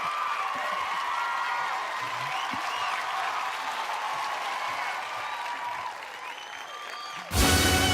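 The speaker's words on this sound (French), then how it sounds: "Et lui-même, il s'est levé pour applaudir." A talent show jury and audience applaud at length, a dense, steady wash of many hands clapping that carries on without a break before cutting off sharply at the end.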